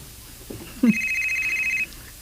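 A telephone rings with an incoming call, a single bright electronic ringing tone held for about a second, heard close and clear after a brief rustle, with no talk.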